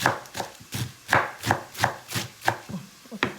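Cabbage being finely chopped with a knife on a board, a quick steady run of about ten crisp, close chops at an even rhythm, with no talking.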